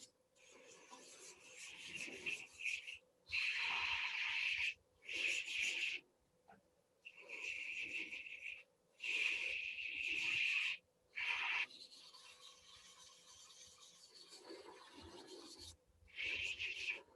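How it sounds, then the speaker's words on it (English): Sandpaper rubbing back and forth on the handle of a hard maple wooden spoon, starting with 120 grit; close, dry scratchy strokes come in repeated bursts with short pauses between them. "The only thing I'm going to sand is the the handle"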